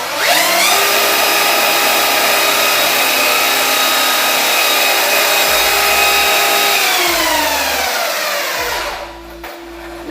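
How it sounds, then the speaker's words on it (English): A ZD Racing Pirates 3 RC truggy's electric motor revs at full throttle with the wheels spinning free, a loud, close, rising whine that holds steady, dips briefly, then winds down near the end. "Now that I've set the throttle to max power, let's see how fast the wheels can spin."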